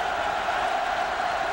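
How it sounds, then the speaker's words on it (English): A football stadium crowd at a 2006 Air Force versus Tennessee game roars after a touchdown, forming a dense, steady wash of massed voices with no single voice standing out. "Well, the crowd is on its feet."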